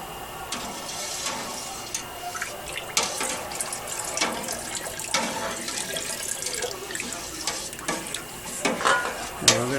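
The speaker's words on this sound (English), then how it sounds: "And we're going to stir this for about a minute." Cheese milk for homemade Colby is stirred in a pot, with sloshing, watery swirls and occasional clinks recurring through the stretch, fairly close and moderately loud with no talking.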